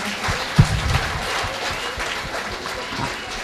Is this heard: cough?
no